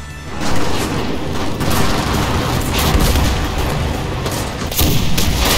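Dense gunfire and heavy booms in the online shooter Enlisted, a continuous roar of overlapping shots and explosions with a few sharper bursts standing out, loud and close.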